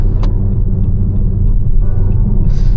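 A Jeep Compass picks up speed in third gear from about 40 to nearly 80, heard from inside the cabin as a loud, steady low engine and road rumble with a few faint clicks.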